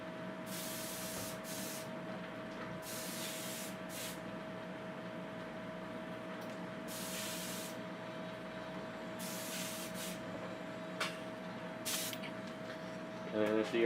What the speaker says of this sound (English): if the airbrush isn't clogged too much, which it kind of is, so I gotta clean it